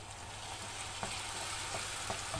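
Hot water going into a sizzling pan of İzmir köfte gives a soft, even sizzle and hiss with a few faint clicks, fairly quiet and continuous, with no voices.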